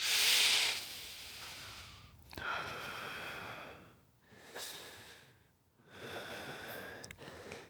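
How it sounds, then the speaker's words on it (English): Slow, audible yoga breathing while holding a pose: long hissing exhales and inhales, close and alone, in about three drawn-out cycles separated by short pauses. "Hold in the pose, taking 2 more breaths."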